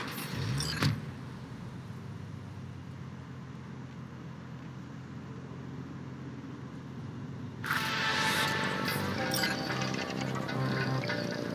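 A car driving in the video game Cyberpunk, a steady engine drone with road rumble that swells louder partway through, with a couple of brief metallic clinks, no talking.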